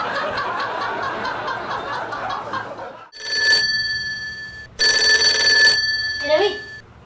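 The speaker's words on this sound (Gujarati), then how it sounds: "ઓય તમારો ફોન વાગે છે." Mobile phone ringing, two loud electronic bursts of a bright repeating ringtone separated by a short gap, with people laughing and talking before and after it.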